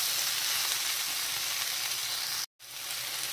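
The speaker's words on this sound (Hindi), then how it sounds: "इसको 1 से 2 मिनट तक इस तरह से फ्राई कर देंगे अच्छे से, मतलब इसको लगातार चलाते हुए पकाएंगे हम लोग" Mixed winter vegetables fried and stirred continuously in a pan: a loud, steady, close sizzle with a brief cut in the middle before the sizzling resumes.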